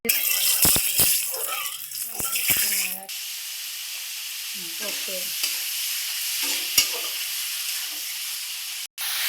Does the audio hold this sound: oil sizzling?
yes